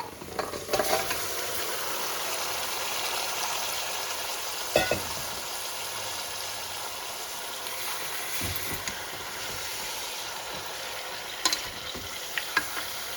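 Pieces of goat head sizzle steadily in a pot while being stirred, with a continuous frying hiss and scattered clinks and scrapes of the spoon, heard close with no talk, for goat head curry in a pressure cooker.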